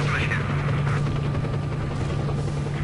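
Gunfire in the video game S.T.A.L.K.E.R.: Shadow of Chernobyl, a dense, continuous rattle of shots in a loud, busy firefight that fills the whole moment.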